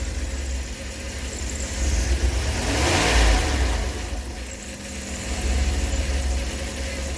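A Dodge conversion van's engine, just fitted with a replacement cylinder head, idles up close and then is revved, swelling louder with an uneven, stumbling surge before dropping back to a rough idle.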